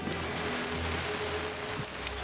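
Tropical rain pours down in the Bolivian jungle beneath the Andes, a steady dense hiss that fills the whole clip without letting up, with no voices.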